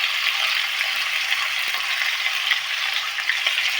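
Raw potato frying in a pan with green chillies added makes a steady, close sizzle with soft scraping and stirring clicks throughout.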